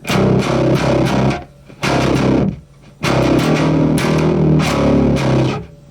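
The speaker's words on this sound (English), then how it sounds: "Let me whack the distortion and the volume up. And that is the gate." MXR M80 DI bass pedal with distortion and volume turned up, playing loud gritty chords whose tails are chopped to silence by the noise gate, cutting off sharply twice between bursts.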